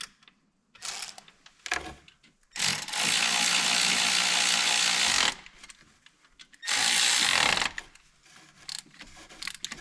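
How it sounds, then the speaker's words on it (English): A hand ratchet tightens a lug bolt in the cramped engine bay of a 2010 Volkswagen Touareg TDI during alternator replacement, giving two long bursts of rapid clicking separated by quieter handling noises, close and fairly loud. "I'm tightening up this lug, being very cautious not to hit any surrounding metal pieces here"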